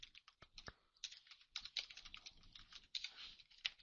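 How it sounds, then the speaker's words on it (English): Typing on a computer keyboard, a quick, irregular patter of soft key clicks heard close and quiet, with brief pauses between bursts. "If I can type it right."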